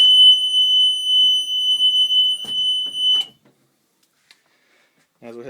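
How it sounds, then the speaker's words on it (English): Back door buzzer on a vehicle during an interior pretrip inspection, a loud steady electronic tone lasting about three seconds before cutting off, followed by a few faint clicks and brief speech at the end. "we want to check the back door to be sure that that buzzer goes off and the door opens freely"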